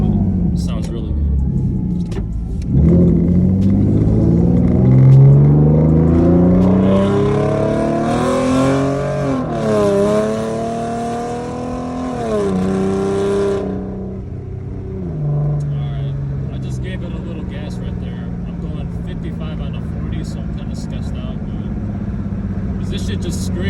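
A V6 Ford Mustang with a loud aftermarket exhaust accelerates hard on wet streets, the engine climbing through gears in a rising roar before easing off to a steady low rumble.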